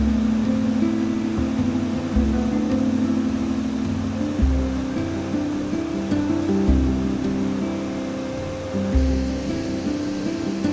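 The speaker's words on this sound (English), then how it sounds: "the power of this waterfall is intense" A powerful, steady roar of rushing water from a waterfall in the Montana woods, close and loud throughout, with deep low rumbling and a constant wash of spray.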